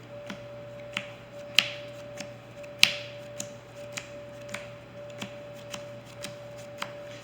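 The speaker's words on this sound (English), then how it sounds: "And last power shuffle." A Yu-Gi-Oh! card deck is power shuffled in a steady series of sharp, close riffling snaps, about one or two per second, with no talk.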